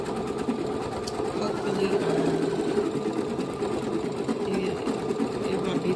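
Embroidery machine stitching out a Minnie Mouse design, giving a steady, fast, rhythmic mechanical clatter up close, with a voice briefly talking over it.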